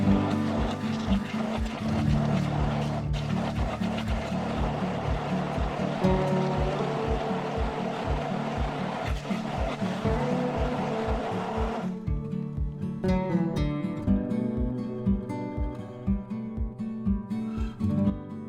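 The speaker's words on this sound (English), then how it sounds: "Blend everything together on a medium to high setting." A blender on a medium to high setting pulverising strawberries and frozen mango for frozen yogurt, a loud steady motor whir with rhythmic churning that eases off near the end.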